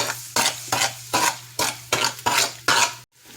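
Oxtail pieces browning in hot oil with sugar in a pot for Jamaican oxtail, heard as rhythmic bursts of stirring and scraping with a steady sizzle underneath, close and fairly loud, about eight strokes before a brief stop.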